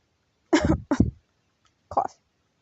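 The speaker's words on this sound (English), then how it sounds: "Cough." Three short coughs from a nearby person, two close together and a third after a pause, sounding alone against silence.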